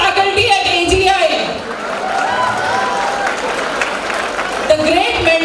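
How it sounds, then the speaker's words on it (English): An audience at a college freshers' day breaks into applause, a dense wash of clapping and crowd noise under a voice speaking over it through a PA. "A big round of applause for the excellent faculty at AGI."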